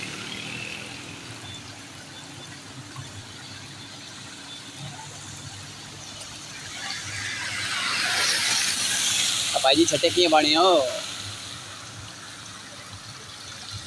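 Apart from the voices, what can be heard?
rainwater flowing along a road after rain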